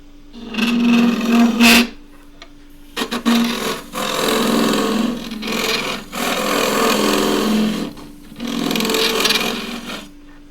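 Long-handled woodturning tool cutting the end grain of a wooden cup on a lathe, giving a steady scraping hum in several bursts with short gaps between cuts, loud and close with no talking.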